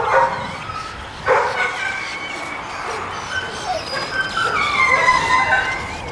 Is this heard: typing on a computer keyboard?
no